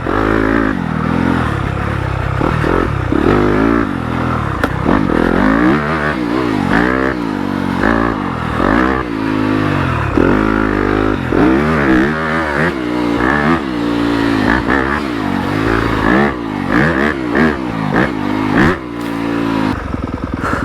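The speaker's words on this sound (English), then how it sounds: "Very nice feel from 250 stock engine." A stock 2020 Yamaha YZ250FX 250 dirt bike engine without an aftermarket exhaust revs and pulls steadily along a trail, loud and close throughout with rapid throttle swells and a rough, continuous drone.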